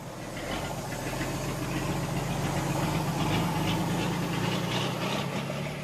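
Engine of a stripped-down vehicle on the Transamazônica in the Brazilian Amazon, just a bare chassis and motor with no bodywork or plates, running steadily with a low, knocking mid-range drone throughout.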